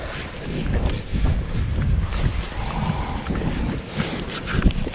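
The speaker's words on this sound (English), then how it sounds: "I didn't want to face the wind" Blustery wind during a Texas snowstorm and deep freeze, buffeting a microphone outdoors with a steady low rumble and gusty surges throughout, no voices.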